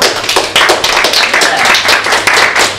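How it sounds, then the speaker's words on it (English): A burst of loud, dense applause from a crowd, many hands clapping at once in a steady, close roar for a few seconds. "Pedro, round of applause."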